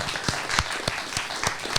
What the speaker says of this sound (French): Applaudir et remercier Guillaume